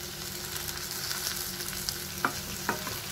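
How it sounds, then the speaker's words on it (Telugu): Fresh coriander frying in a spiced masala of chilli powder and garam masala for a mixed vegetable fry, a soft, steady sizzle with a couple of sharper spatula taps near the end, fairly quiet and with no speech. "1 మినిట్ ఫ్రై చేసుకుందాం, కొత్తిమీర ఫ్లేవర్ అంతా ఫ్రైకి బాగా పడుతుంది"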